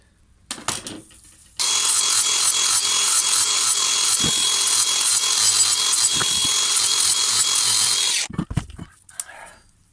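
A brush cutter blade is sharpened with a power grinder in one loud, steady grinding run of about six seconds, with short scraping touches and handling noises just before and after.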